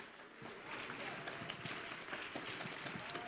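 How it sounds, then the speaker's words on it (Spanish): Church congregation clapping for the Lord during a worship service, with dense, continuous hand claps at moderate distance and a few sharper individual claps standing out. "Hand clap to the Lord."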